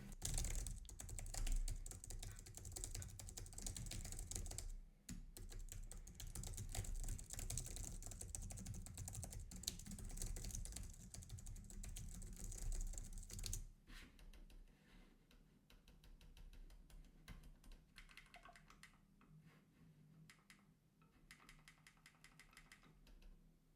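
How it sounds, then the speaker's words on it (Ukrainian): Computer keyboard typing and mouse clicks picked up by a Fifine Ampligame AM6 microphone from behind it, a steady rapid clatter of keystrokes that thins into quieter, sparser clicking partway through. "як вловлює мікрофон клацання клавіатури та миші"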